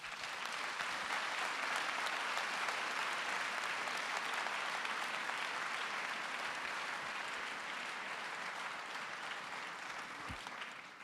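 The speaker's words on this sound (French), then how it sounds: "je trouve qu'ils ont vraiment mérité un applaudissement de tonnerre de votre part" Steady, sustained applause from a large audience at an arts and crafts award ceremony, a dense wash of clapping that holds evenly for about eleven seconds with no speech over it.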